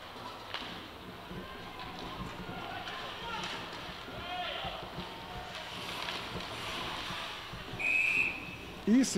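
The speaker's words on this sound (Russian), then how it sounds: "И свисток арбитра, шайба у Дмитрия Гамзина." A referee's whistle blows once, short and shrill, near the end of a noisy stretch at an ice hockey arena, rising over crowd murmur and a commentator talking throughout.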